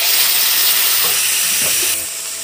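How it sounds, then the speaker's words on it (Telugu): Fish pakoda pieces frying in oil over a medium flame, a steady close hiss and sizzle with a few soft stirring knocks, tapering slightly toward the end. "ఇదంతా మీడియం ఫ్లేమ్లోనే వేపుకోండి."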